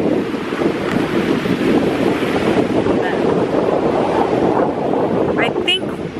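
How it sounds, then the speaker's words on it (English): Strong wind blows at a dock, buffeting the microphone in a continuous loud roar with water lapping beneath it throughout. "it's so windy that the chair fell into the water"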